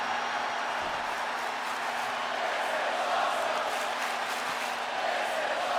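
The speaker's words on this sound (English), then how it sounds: "The crowd chanting, "This is awesome."" A virtual arena crowd in the WWE 2K24 wrestling game roars and chants as a dense, steady wall of voices, with rising swells of cheering and no commentary on top.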